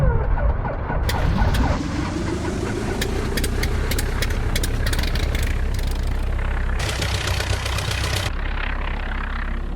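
A de Havilland Tiger Moth propeller engine in the X-Plane 12 flight simulator, at Clairmarais Aerodrome, runs up steadily at close range, its drone rising in pitch as throttle is added, with brief clicks and rattles over the continuous engine note.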